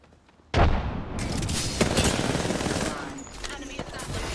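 A frag grenade blast in a shooter game, a sudden loud boom followed by sustained rattling gunfire and rumbling, close and dense for several seconds with voices mixed in.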